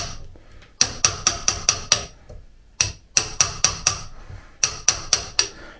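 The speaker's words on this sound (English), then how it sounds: "Believe me, this chisel is sharp, but this oak is really hard. It's brown oak." A mallet striking a chisel into hard brown oak while cutting recesses for brass door hinges, three sharp, close runs of rapid evenly spaced blows with short pauses between.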